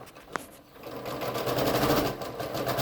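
A domestic sewing machine stitches a partial seam on a log cabin quilt block, a steady mechanical whir building after a brief click near the start, close and fairly loud with no talking.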